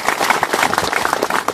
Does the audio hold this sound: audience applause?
yes